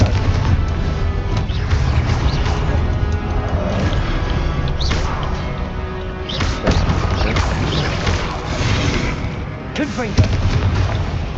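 Confringo fire spells in Hogwarts Legacy set off repeated crashing blasts and bangs amid ongoing combat clatter, with a voice talking at times over the noise.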